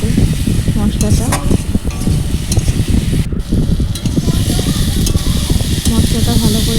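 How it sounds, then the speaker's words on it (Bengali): A spatula stirs curry after tomato paste and spices go into the pan, giving a loud, continuous churning sizzle with scraping strokes, and a voice speaks over the cooking. "দিয়ে আবারও একইভাবে তরকারিটা নাড়াচাড়া করে নেব"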